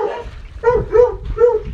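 Dogs bark outdoors in a rhythmic series of three sharp, fairly loud barks after a softer opening yip, close by.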